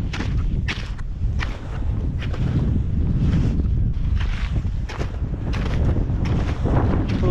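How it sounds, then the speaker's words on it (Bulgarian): Strong wind sweeps across a Rila mountain slope in winter, buffeting the microphone in loud, gusty bursts with rustling and crunching steps mixed in, steady throughout. "Вятъра е доста силен."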